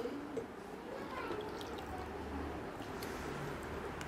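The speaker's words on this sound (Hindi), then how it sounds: "तीसरे में डालता हूँ कैंगन वाटर" Kangen water poured into a glass holding a tea bag gives a steady, close liquid trickle and splash over a low background hum, with someone talking faintly in the background.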